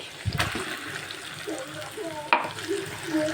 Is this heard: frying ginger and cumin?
yes